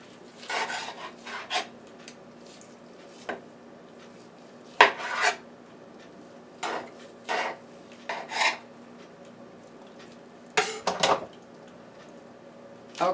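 A knife trims excess fat off a ham in short, separate rasping cuts, each a brief scrape and rub, spaced irregularly with quiet pauses between them, close by.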